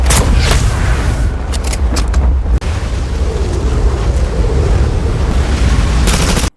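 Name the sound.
gunfight in a film scene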